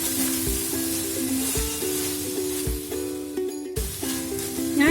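Kerala-style beef pepper fry sizzles loudly and steadily in a pan, a continuous close hiss broken by the scrape and knock of a spoon stirring the meat at irregular intervals, with no voices.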